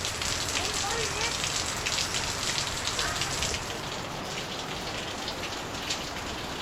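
Steady, heavy rain pours down in a dense continuous hiss, loud and constant from start to finish.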